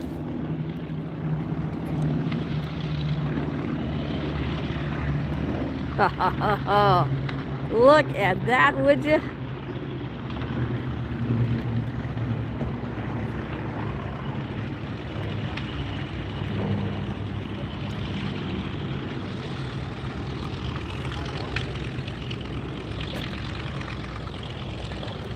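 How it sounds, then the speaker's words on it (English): Warbird aircraft passing over at the EAA AirVenture airshow in Oshkosh, a steady propeller drone and rumble with a distant crowd around it, while someone speaks excitedly over the engine noise. "We got warbirds everywhere in the air."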